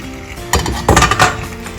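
Pasta drops into a sizzling pan, with sharp clinks and metallic scrapes of utensil against the pan, stirring bursts rising over a soft background sizzle.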